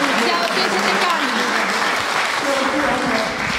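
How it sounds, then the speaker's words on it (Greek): Loud, sustained applause from a concert audience honouring a guest at a Markopoulo Philharmonic anniversary event, a dense steady roar of clapping filling the whole moment with faint crowd murmur. "Πολύ δυνατό χειροκρότημα."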